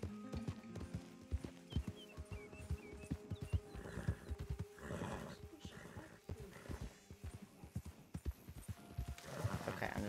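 Horse hooves clip-clop in a steady galloping rhythm in the Red Dead Redemption 2 video game, near and fairly loud, with occasional game music and effects and someone talking over them.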